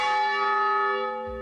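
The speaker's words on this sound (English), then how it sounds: "This is the noon Angelus." A large bell at St. Mary's Cathedral rings the noon Angelus: one loud, close strike whose bright metallic tone hums on and slowly fades.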